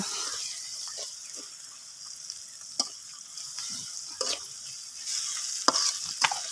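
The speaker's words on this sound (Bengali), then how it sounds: "আদা বাটা এগুলো সব ভেজে নিলাম" Ginger paste, onion and garlic frying with spice paste in a pan for khichuri: a bright, hissing sizzle broken by repeated scraping strokes of a spoon stirring the mixture, no voices.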